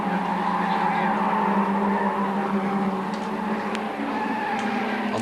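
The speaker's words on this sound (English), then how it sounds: "Fitzgerald closing all the time as they head up Bitchapave Hill" Race cars, including a Toyo Tyres-sponsored Toyota Supra, roar uphill at Amaroo Park circuit in 1989, a loud continuous engine drone with tire noise and a commentator talking over it.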